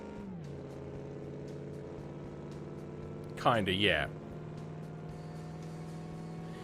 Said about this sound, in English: the engine at lower RPM sounds like an old plane engine.